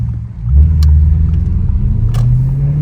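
Straight-piped Audi S7 engine and exhaust booming loudly from inside the car on a downtown Toronto drive, a deep steady drone that swells after a brief dip and holds, with revving rises.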